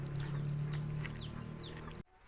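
Several Rhode Island Red chickens cluck and call in short repeated bursts over a steady low hum, fairly close, then the sound cuts off abruptly near the end.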